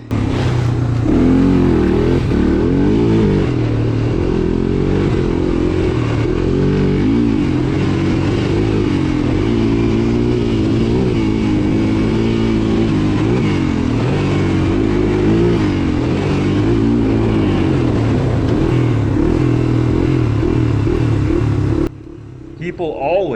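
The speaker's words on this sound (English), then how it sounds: "People always love to see a three-wheeler go by." An old three-wheeler ATV engine revs and bogs repeatedly while riding a trail, loud and close throughout with wind rush and wavering throttle, cutting off near the end.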